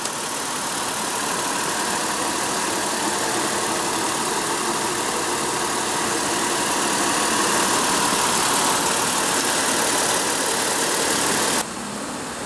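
A 2015 Toyota 4Runner Limited with a 4.0 L V6 engine idles steadily for the whole stretch, a constant mid-pitched hum with broadband noise that drops slightly near the end.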